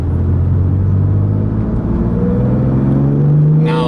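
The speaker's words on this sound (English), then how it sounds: "if we get it to where you can wind it out, like it pulls all the way to red line" A manual BMW M2 Competition's turbocharged engine climbs in pitch as it revs out in third gear toward the red line, a loud rising growl held close and steady with a brief burst of noise at the end.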